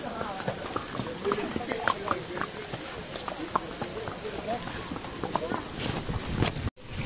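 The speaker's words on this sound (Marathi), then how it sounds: "चला ते बघा घोडा." Horse hooves clip-clop along a path at the Matheran hill station in heavy rain and thick fog, a brisk close rhythm of steps under rain noise, with people talking nearby.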